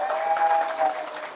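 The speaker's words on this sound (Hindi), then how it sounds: "एक बार जोरदार ताली वसीम भाई के लिए बजा दीजिए" Brief, lively applause from a crowd at a pigeon racing event in Delhi, dense clapping swelling and easing over about a second and a half, with a faint steady tone in the background.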